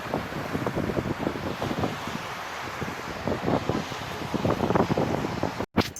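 Wind and choppy waves on a large lake, heard as steady gusting rush and buffeting against the microphone with irregular splashes of water, continuous and fairly loud throughout.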